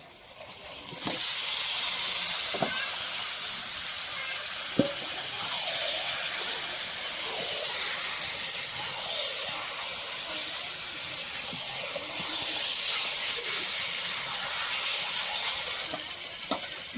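Steady loud sizzling hiss of chicken frying with onions in a wok for Kashmiri chicken, continuous throughout with occasional faint clinks and pops.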